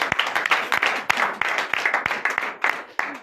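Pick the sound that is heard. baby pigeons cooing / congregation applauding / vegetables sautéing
congregation applauding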